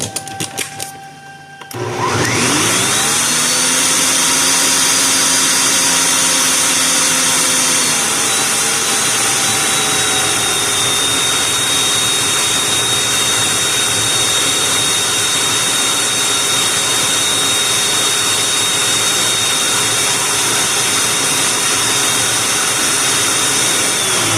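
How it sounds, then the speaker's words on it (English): A blender whirs into a dairy-free zucchini mixture, spinning up after a short pause into a loud, steady, close whine that holds without letup. "blend the contents for 15 seconds"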